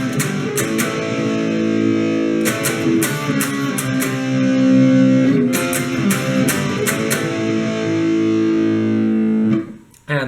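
An electric guitar in standard tuning plays the intro riff of a song, loud, distorted and steady, with sharp repeated accents and sustained chords before cutting off near the end.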